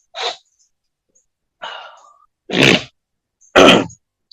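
Four separate harsh throat bursts, coughs or sneezes, spaced about a second apart, close and loud with silence between.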